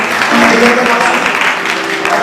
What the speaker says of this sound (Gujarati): તેની માટે ખૂબ બિરદાવશું આપણે તાળીઓના ગડગડાટથી